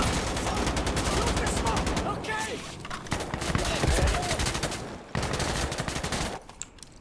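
Rapid bursts of gunfire from the shooter game Insurgency: Sandstorm crackle almost nonstop, loud and close, with a short gap near the end before more shots resume.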